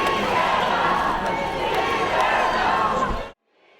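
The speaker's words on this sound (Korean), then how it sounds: "지지자들은 이재명을 외치며 환호했습니다" Supporters of Democratic Party leader Lee Jae-myung cheer and chant his name outside a courthouse after his acquittal, a loud, dense crowd roar that holds steady for about three seconds before cutting off abruptly.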